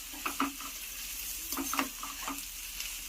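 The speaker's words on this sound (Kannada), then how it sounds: "ಇದನ್ನು ಅಷ್ಟೇ 1 ಮಿನಿಟ್ ಈ ಥರ ಫ್ರೈ ಮಾಡಿ." Cabbage stir-frying in a pan for egg fried rice: a soft, steady sizzle broken by a few clattering scrapes and stirring knocks, close and quiet.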